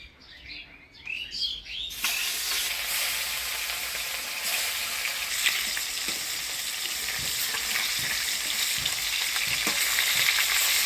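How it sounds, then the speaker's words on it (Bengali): Fish, tilapia among them, drop into hot mustard oil in a Bengali village kitchen. A loud, steady sizzle starts suddenly after a brief quiet stretch with bird chirps, then builds slightly and keeps going with no voices. "তেল গরম হয়ে গেছে, এবার মাছগুলো দিয়ে দিব"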